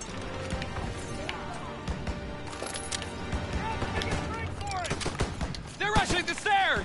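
Gunfire in a Call of Duty WWII battle on Veterans difficulty, a dense crackle of repeated shots over the din of combat, with voices shouting orders partway through and louder bursts near the end.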